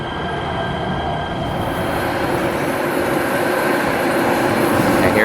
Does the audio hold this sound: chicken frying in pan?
no